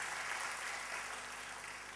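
Congregation clapping during a church sermon, a dense, continuous wash of applause holding at an even level throughout, with a low steady hum underneath.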